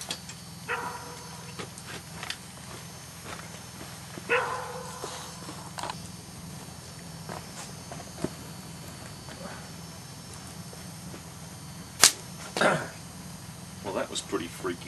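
Dog barking in short scattered bursts outdoors at a campfire at night, fairly distant and irregular against steady background ambience.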